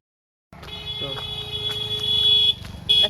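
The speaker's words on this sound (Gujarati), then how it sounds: "આટલો બધો હોર્ન મારો" An electronic horn-like tone blares in sustained bursts, cutting off briefly and sounding again, over low street rumble.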